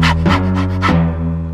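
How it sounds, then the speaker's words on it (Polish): Clifford, a big red cartoon dog, lets out a quick series of four loud, close, voiced barks over a steady background tone in an animated show. "A to jest Clifford, mój wielki czerwony pies."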